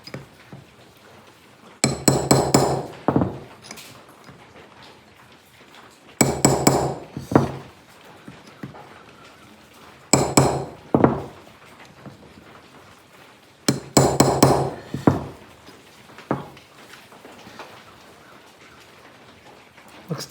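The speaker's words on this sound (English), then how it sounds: "Tack hammer." A tack hammer taps on a heater part from a 1956 Ford F100 in four separate bursts. Each burst is a quick cluster of sharp metallic taps, with quiet gaps between them.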